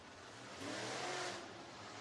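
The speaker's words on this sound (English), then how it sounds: "Looks like the 31 is going to come in real fast" A race car on a dirt speedway comes in fast, its engine swelling from a distant roar to a louder pass and then easing off, heard alone over a steady track ambience.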